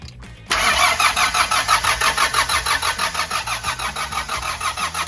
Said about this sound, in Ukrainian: Пробуємо перший раз прокрутити стартером двигун.